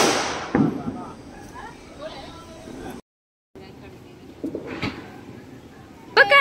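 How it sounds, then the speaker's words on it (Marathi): Diwali firecrackers burst outdoors in a few sharp, loud cracks spread across the moment, one near the start and another later, over background chatter and voices. "फटाका आहे"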